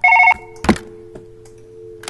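An old-style telephone bell rings in the Surgeon Simulator video game, one short loud trill followed by a hollow thunk and a faint lingering tone, with no talk.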